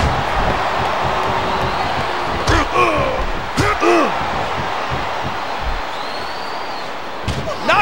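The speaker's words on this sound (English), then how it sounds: "A belly-to-belly suplex." Heavy thuds of a wrestler hitting the mat from a belly-to-belly suplex in a WWE WrestleMania pre-show bout, two sharp impacts over a constant roaring arena crowd.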